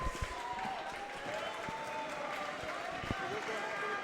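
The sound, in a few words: basketball fans clapping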